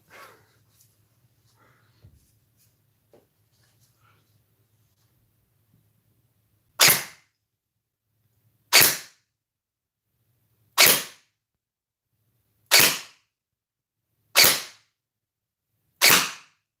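Six sharp gunshots from a video game ring out at regular intervals of about two seconds, each a loud, crisp crack with a short decay, alone in near silence.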